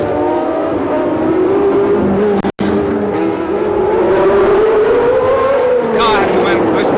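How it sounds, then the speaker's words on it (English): A V12 Formula One race car engine screams at high pitch during the 1976 United States Grand Prix West, its tone rising and sliding steadily, loud and close, with a brief dropout midway and crowd or track noise beneath. "V12 engine, it literally screams, this engine."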